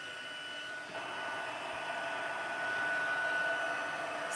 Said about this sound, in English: we will heat that to melt our embossing powder into it.